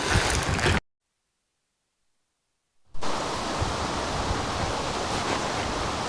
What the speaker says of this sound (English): this wind's picking up quite a bit now